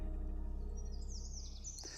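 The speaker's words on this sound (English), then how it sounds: "You can hear the birds singing in the trees here" Faint birds chirp and sing in the distance over a low steady hum, with a few brief high calls.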